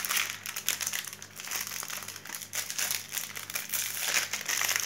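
A foil packet of UEFA Euro 2020 Adrenalyn XL trading cards is torn open and handled, giving close, continuous crinkling and crackling in uneven bursts over a low hum.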